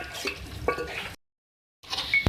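Mughlai chicken masala being mixed and cooked in a pan: brief scraping stirs over a soft sizzle, cut off by a silent gap before the stirring resumes, close and fairly quiet.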